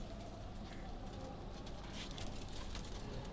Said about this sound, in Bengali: এই যে কবুতর বেরোতে